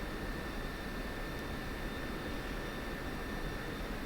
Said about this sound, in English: it is a jet engine. It does kind of end up, tend to sound like a Hoover.